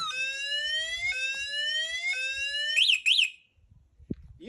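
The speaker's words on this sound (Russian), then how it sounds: "сразу блокируется скутер и начинает сигнализация срабатывает" A scooter's anti-theft alarm goes off with loud rising electronic tones that reset in repeated sweeps, then two quick warbling bursts before cutting out to near silence with faint handling noise.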